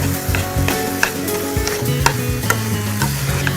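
Grated carrots being stir-fried in desi ghee for gajrela, a close, steady sizzle broken by rhythmic scraping and stirring strokes of a spoon against the pan, with a faint low hum beneath.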